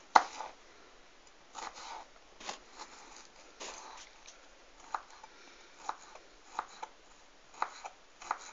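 A knife roughly chops a shallot on a cutting board, making sparse, irregular taps and short scraping strokes, close and fairly quiet, with no talking.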